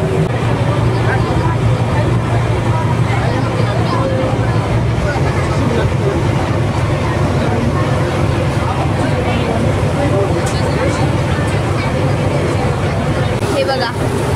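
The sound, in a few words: boat moving on water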